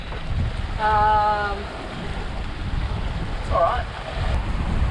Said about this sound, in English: We've got about maybe like 15 to 20 knots of wind gusting up to 22.